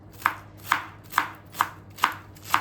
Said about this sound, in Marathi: आपल्याला भाजी एकदम बारीक चिरायची आहे।